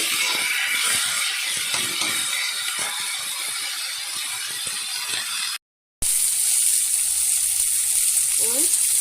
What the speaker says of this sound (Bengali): বেগুনগুলো দিয়ে ভালো করে মশলার সাথে কষিয়ে নেব।